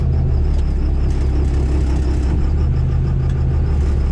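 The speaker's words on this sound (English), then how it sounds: "See if it'll spool now" Cummins diesel engine with a high stall converter spooling, a loud, constant low rumble with a whirring turbo tone layered over it, close up.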